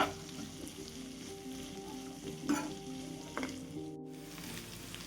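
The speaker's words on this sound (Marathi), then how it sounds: "थोडे कांदे मी थोडे मोठे मोठे चिरले मी कांदे या प्रकारे हे पण छान परतून घेते" Roughly chopped onions sauté in a pan with carrots for masala sweet corn, giving a steady close sizzle and crackle throughout with occasional stirring scrapes.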